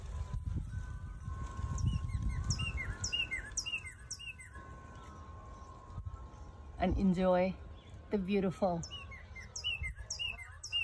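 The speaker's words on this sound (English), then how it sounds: "These guys are lorikeets." Lorikeets chirp in quick, high, repeated bursts, some close and loud, while a person talks briefly near the start under steady background noise.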